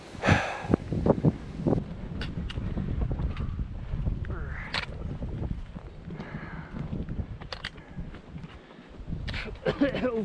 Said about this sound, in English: Just like last night, it's pretty windy.